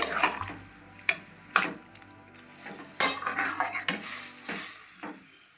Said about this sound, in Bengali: এবার একটু নাড়িয়ে চাড়িয়ে নিচ্ছি।